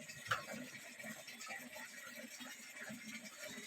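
Water runs steadily into a bucket at a village home in the Konkan region of Maharashtra, a soft, continuous flowing hiss that stays fairly quiet throughout.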